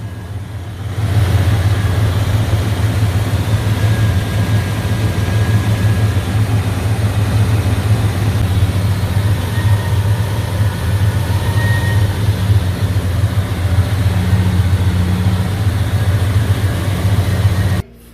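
A classic car engine idles before an AMSOIL flush treatment, a steady, loud, low rumbling drone held evenly for many seconds with no talk, then cutting off at the end.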